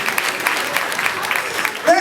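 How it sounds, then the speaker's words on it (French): An audience at the Miss et Mister RDC International pageant show applauds with steady, dense clapping that fills the short moment. "Applaudissez ma reine, c'est ma reine. Applaudissez-la s'il vous plaît,"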